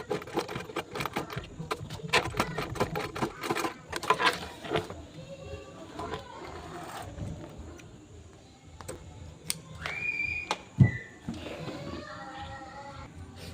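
A sewing machine runs a short back stitch on a beginner's Olivia bag, a fast rapid ticking patter near and loud for a few seconds, then easing into quieter handling sounds with faint sparse ticks.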